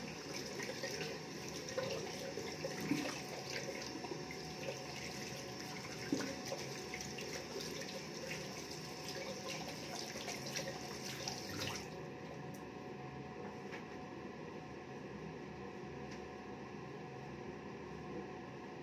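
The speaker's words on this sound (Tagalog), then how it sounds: "Hugas muna tayo ng kamay." Tap water runs steadily for hand washing, with soft splashes and rubbing throughout; partway through the bright hiss drops out and a quieter, duller flow continues.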